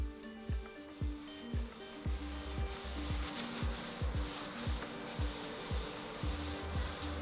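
A cloth wiping excess finish off an old laminated table with rhythmic rubbing strokes, about two per second, close and steady throughout with no voices.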